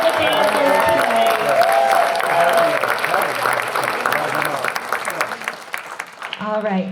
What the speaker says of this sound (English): one round of applause for all of the dancers today